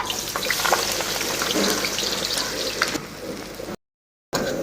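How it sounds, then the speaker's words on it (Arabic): Chopped onion sautéing in ghee in a pan for yellow lentil soup, a steady close crackling sizzle with stirring clatter that briefly cuts out near the end. "ونشوح البصلة مع السمنة اهي"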